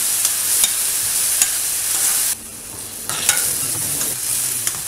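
Gobi Manchurian being fried and stirred in a pan, a steady close sizzle with scraping stirs and clinks, briefly quieter midway before the hiss picks up again, with no talking.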